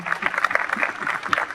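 An audience at a Toulouse gaming-convention conference on dubbing claps for its speakers, giving a short burst of steady, fairly loud applause.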